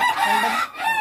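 Backyard chickens vocalise with a short, close run of tonal, harmonic clucks, briefly dipping before resuming.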